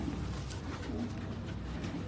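A Kasuri pigeon coos softly on a Karachi rooftop loft, its low call blending into a dense, steady wash of outdoor background noise with no talking.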